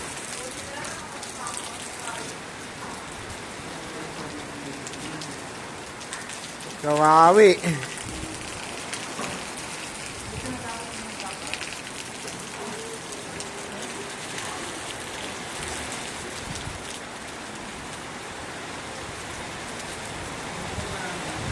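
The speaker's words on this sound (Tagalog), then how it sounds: "mas lumakas yung ulan" Heavy rain falling steadily on a campsite, a dense continuous hiss throughout, with a brief louder rustle partway and a short spoken word.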